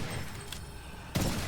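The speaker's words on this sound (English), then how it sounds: "that explosion, was from Blood of the Banshee, because snipers do overkill damage" A sniper-triggered Blood of the Banshee explosion in the game Witchfire bursts loudly near the end, a sharp blast following a stretch of steady low rumble and noise.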